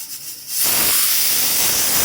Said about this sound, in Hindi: कुकर में सीटी आ रही है